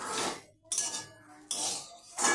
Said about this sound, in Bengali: খুন্তিতে নেড়ে চেড়ে ভেজে নিচ্ছি আমি